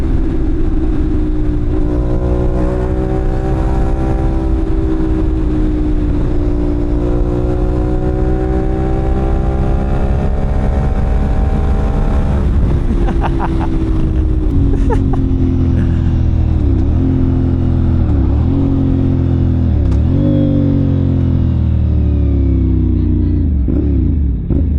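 A NK400/450NK motorcycle engine drones steadily and loudly for a long stretch, with pitch rising and falling as it revs through gears during an overtaking pass, and a few sharp throttle blips and dips near the end.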